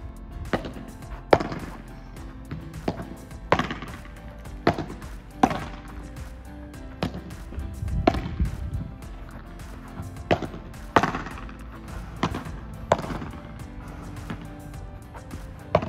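Padel ball volleys in a pattern drill ring out as sharp, hollow pops at an irregular pace, about a dozen over sixteen seconds, with court noise between them.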